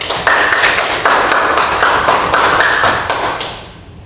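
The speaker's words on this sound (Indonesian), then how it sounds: "Beri aplaus." Classroom applause from a group of students, a dense, steady patter of many hands clapping close by for about three and a half seconds, then fading out at the end.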